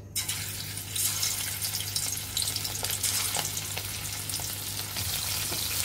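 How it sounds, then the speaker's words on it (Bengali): Shing fish fry in hot white oil in a wok, a strong continuous crackling sizzle with sharper spitting bursts, close by, over a low steady hum. "এখন মাছগুলো আমরা এর মাঝে দিয়ে দিব একে একে করে"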